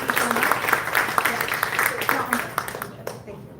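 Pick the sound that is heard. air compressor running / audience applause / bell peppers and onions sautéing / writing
audience applause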